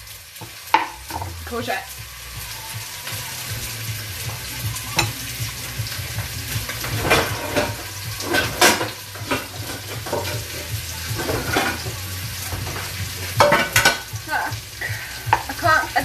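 Onions and courgette fry and sizzle steadily in a pan with stirring scrapes and clatters throughout, loud and close, while a voice speaks briefly.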